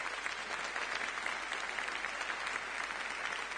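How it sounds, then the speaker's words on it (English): Audience applause for the Auckland Concert Orchestra at a film music concert, a steady dense wash of many hands clapping throughout at even, moderate volume with no voices. "Let's give them one more big round of applause."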